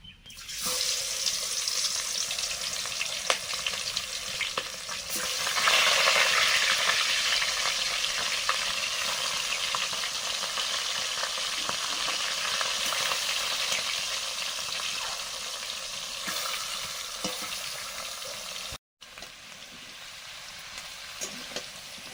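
Small pond-caught fish coated with salt, turmeric and chili powder fry in oil, a loud, continuous crackling sizzle with occasional sharper spatters that stays close and steady, briefly cutting out near the end.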